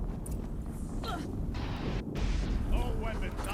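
Explosions in the video game Horizon Zero Dawn boom through a dense, rumbling soundscape, with broad low bursts and a swelling roar near the end, mixed under game voices and effects.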